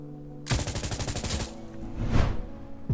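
Video game machine gun, an M249 or PKM, firing a rapid sustained burst of about a second of loud, close rattling shots, then a second heavier blast with a lingering tail, no voices.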